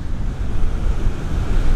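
Pacific Ocean surf washes onto the coast in a continuous, loud low roar, mixed with buffeting wind noise against the microphone.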